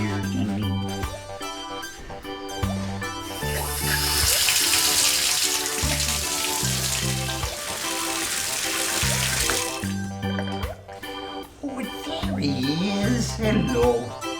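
Tap water runs while a dog is being bathed, a steady rushing spray lasting several seconds mid-clip over background music and some talk.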